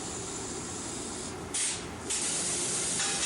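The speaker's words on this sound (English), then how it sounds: "factory Z-Bart rust proofing is sprayed in critical areas as still further protection against possible rust." Factory Z-Bart rust proofing sprayed onto car bodies on a 1981 American Motors assembly line, heard as a steady broad hiss over continuous plant noise with louder spray bursts coming in partway through.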